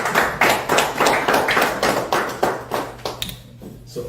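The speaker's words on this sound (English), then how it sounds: "You can clap if you want to clap." A small audience at a Houston real estate book launch claps in a string of sharp, rhythmic bursts, close and loud over a low hum, the clapping thinning and fading toward the end.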